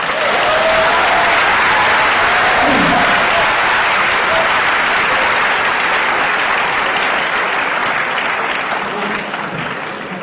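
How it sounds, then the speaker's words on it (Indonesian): Loud, sustained applause from a TEDxJakarta audience for the speaker Gira, thick continuous clapping from a large crowd that holds strong for ten seconds before easing slightly at the end. "Tepuk tangan sekali lagi untuk Gira"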